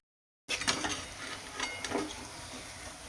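Medu vada frying in hot oil, a steady close sizzle with scattered metallic clinks of a slotted spoon against the pan, starting abruptly after a brief silence.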